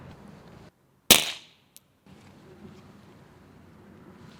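A single sharp gunshot fired through a 3D printed suppressor cracks out loud and close, its blast decaying over about half a second, followed by a faint mechanical click in otherwise quiet surroundings.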